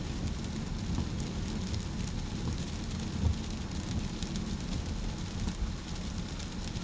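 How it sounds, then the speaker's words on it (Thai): Steady rain falls continuously on an evening drive along the Bangkok–Pattaya motorway frontage road, a dense even hiss with low rumbling underneath, no voices present. "วันนี้อากาศครึ้มฟ้าฝนตก"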